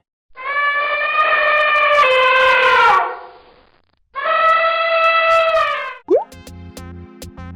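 An elephant calls twice with loud, trumpeting blasts, each lasting a few seconds with a pause between them, followed by a short plopping sound and some tonal chimes.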